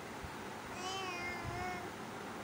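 A voice imitates a cat's meow, a single drawn-out, wavering call over a steady background hiss.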